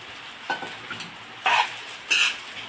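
Soaked sabudana being sautéed with green chillies in a pan, heard as a soft low sizzle with a few brief scraping stirs of a spoon, moderately close, with no voices.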